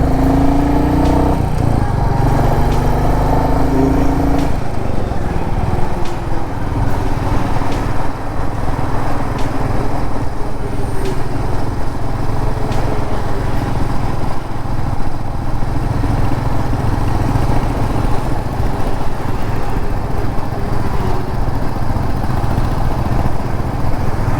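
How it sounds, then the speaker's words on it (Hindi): A modern motorcycle ridden on the road, its engine buzzing steadily with brief revving early on, over continuous wind and road noise throughout. "ये आजकल की बाइक है भैया, ये तो गियर डालो वैसे भागती हैं।"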